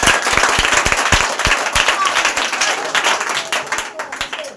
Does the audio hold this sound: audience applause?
yes